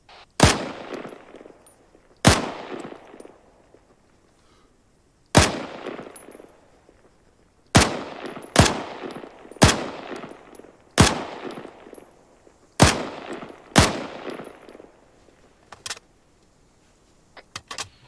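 Rifle shots crack out at range targets in Arma 3, about ten loud single reports at irregular intervals, each with a short echoing tail, some fired in quick pairs.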